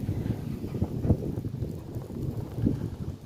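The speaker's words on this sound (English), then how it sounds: "little bit of wind, a little gusty here" Gusty wind buffets outdoors ahead of a hurricane, making low rumbling noise that swells in uneven bursts with no voices.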